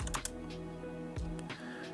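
Typing a command on a computer keyboard: a few quick, light key clicks near the start and another short cluster later, close and fairly faint over a steady low electronic hum.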